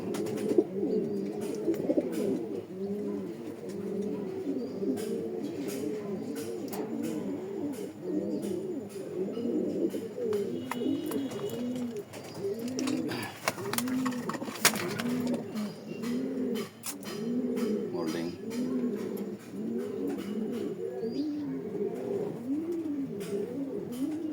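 A loft of racing pigeons coos continuously: many overlapping, rolling coos pulse steadily throughout at moderate loudness, close by, with no talk.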